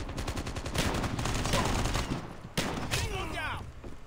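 A BY15 pump shotgun fires in Call of Duty Mobile gameplay: loud, close blasts in quick succession with a burst of other gunfire, then a sharp shot near the middle followed by a ringing tail.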